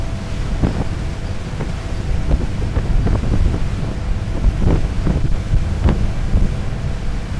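A Sunseeker Superhawk 55 motor boat turns at sea, a loud, steady engine roar under gusting wind buffeting the microphone, with waves and spray slapping the hull at irregular intervals.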